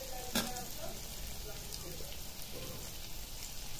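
Green chillies sizzle and crackle steadily as they fry in hot oil, a dense, continuous hiss with a brief louder pop near the start, close by and with no talking.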